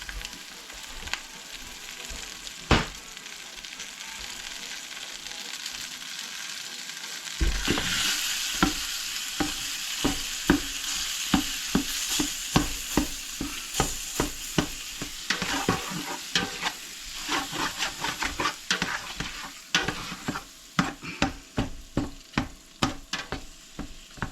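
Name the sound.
ground beef browning and sizzling in a pot for chili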